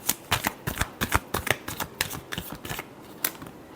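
A deck of tarot cards shuffled close by, a quick run of crisp riffling flicks and taps in uneven bursts, heard alone without speech.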